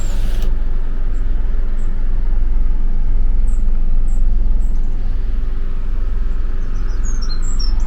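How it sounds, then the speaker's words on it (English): Small birds tweet outdoors in light rain beside a road, their faint, scattered high chirps sitting over a steady low rumble of traffic and rain. "Listen to the birds tweeting."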